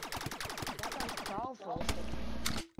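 Gunshot in the video game Rec Room, heard as a few sharp bursts near the end after a stretch of rapid clicking game sounds, with a voice briefly audible.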